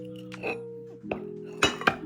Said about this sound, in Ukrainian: Банку промиваємо водою гарно, щоб все вимити.